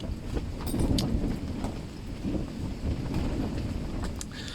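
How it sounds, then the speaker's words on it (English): Steady low rumbling wind buffeting a microphone outdoors at a carp fishing lake, continuous and fairly loud with gusty swells throughout. "Another miserable day. Really windy, as you can see."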